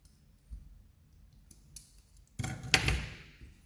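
Scissors cutting material for miniature garden furniture, a few sharp close snips and clicks, the loudest burst near the end, in a quiet room.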